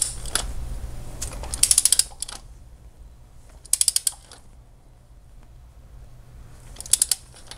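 A torque wrench ratchets and clicks while tightening valve cover bolts on a Yamaha V8 in a Volvo S80, with three close, crisp bursts of rapid clicks separated by quiet pauses and a low background hum.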